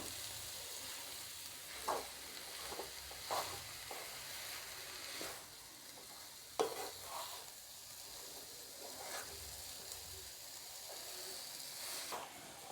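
Halim ladoo ingredients are stirred in a pan over low gas, giving a soft, quiet sizzle with occasional scraping strokes of the spoon.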